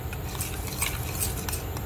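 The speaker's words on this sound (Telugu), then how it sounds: "ఉప్పు వేసుకొని ఒకసారి ఇలా మిక్స్ చేసుకోండి." Curry being stirred in a pot right after salt goes in, a steady close scraping and clinking of a spoon against the pot with a faint simmer underneath, no voices.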